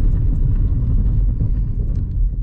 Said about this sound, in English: and now we're gonna start braking